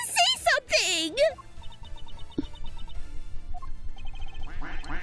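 A human voice imitates a duck with a few loud, nasal quacks up close, then gives way to quiet background music with faint chiming tones.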